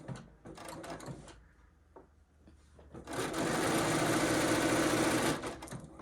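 Sewing machine chain piecing fabric strips for a quilt block: a few handling clicks and bumps, then the machine runs in a loud, steady close whir for about two seconds before stopping.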